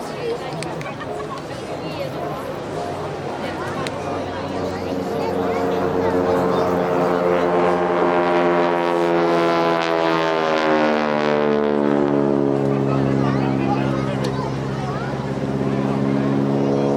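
A WW2 Harvard aircraft flies past at the Blackpool airshow, its engine drone rising and falling in pitch as it passes, loud and sustained, with a commentator talking over it.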